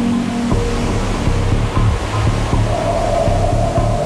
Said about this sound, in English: The effect of wind on the ocean pushes a mass of water towards the coast.